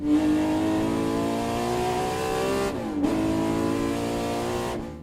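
A Ferrari 250 GTO engine revs hard and loud, its pitch climbing, dipping sharply around the midpoint and climbing again, with a brief drop near the end, as if shifting gears under acceleration.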